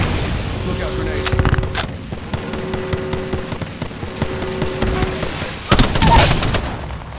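Gunfire and a grenade blast in the battle royale shooter Apex Legends: steady rattling shots through most of the stretch, then a loud, broad explosion burst near the end, with faint game tones underneath.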